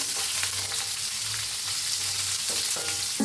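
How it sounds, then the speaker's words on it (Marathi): Mustard seeds, cumin and amla roasting in hot oil for an amla chutney produce a loud, even frying hiss, with a few sharp pops and spatters near the end. "तेल चांगलं तापलंय ह्याच्यात एक बारका चमचा मोहरी घालूया बारका चमचा जिरं ह्याच्यात घालूया आवळा त्याला भाजून घेऊया"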